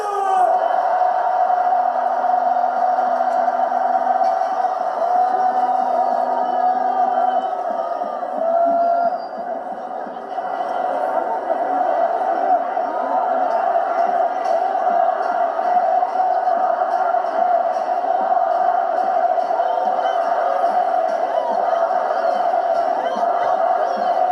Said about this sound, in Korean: 전학일 선생님 오실 때 뜨거운 함성 부탁드립니다